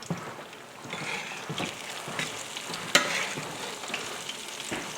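Breaded chicken strips bubble and crackle in frying oil, a quiet continuous sizzle with a few light clinks and taps as the pieces are turned, close by and without speech.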